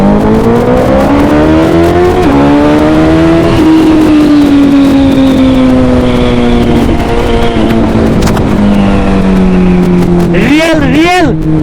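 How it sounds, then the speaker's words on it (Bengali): Superbikes roar at a night rally near Papu Dhaba, their engines loud and close with long revving whines that rise and fall, and a sharp burst of rapid revs near the end. Voices may be faintly present beneath the engines. "রিয়েল রিয়েল সুপার বাইকের রেস ভাই"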